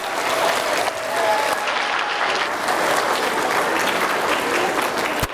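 An elementary school audience in a gym or assembly applauds loudly and steadily for the whole stretch, a dense wash of many small hands clapping with a few cheers mixed in.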